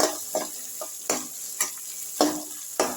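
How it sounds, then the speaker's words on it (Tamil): Chopped onion sautéing in a pan for sambar, a spatula scraping and stirring in several distinct strokes over a soft, steady sizzle, close and fairly quiet, no voices. "அப்படியே வெங்காயத்தை வதக்கி விட்டுக்கலாம்"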